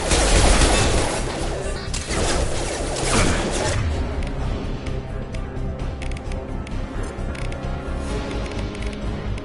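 Gunfire in Mass Effect 2 crackles as a dense, continuous stream of mechanical shots and clatter, loud throughout, with a combat voice over part of it.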